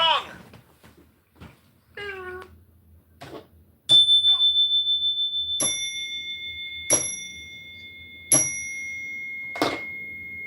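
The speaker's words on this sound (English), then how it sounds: "Ring the gong!" A gong is rung several times, each strike giving a sharp onset followed by a long ringing, sustained tone that fades slowly. Before the first strike a few short voice-like or meowing sounds come through close by.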